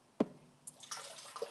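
Liquid poured off a dark, blackened material, with a brief loud splash followed by scattered faint drips and trickles, close by and with no talking.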